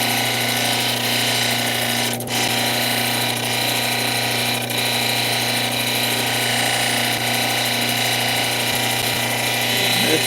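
A 600 grit cabbing wheel runs steadily while a stone is polished against it, a loud continuous motor drone with a steady grinding hiss and a few faint knocks as the stone is repositioned.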